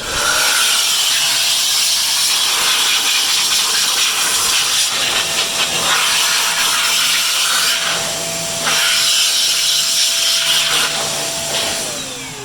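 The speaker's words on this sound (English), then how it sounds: "I think that'll make a great duster for the restaurants and help clean the AC coils." An XPower Airrow Pro electric duster blows a loud, steady rush of air with a constant whine, running continuously with a brief dip near the end before cutting off.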